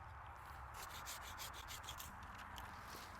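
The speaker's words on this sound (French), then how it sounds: "la première chose, c'est tu sors la scie" Steady back-and-forth strokes of a hand saw rasp through a peach tree branch during pruning, rhythmic and fairly quiet over a constant background hiss.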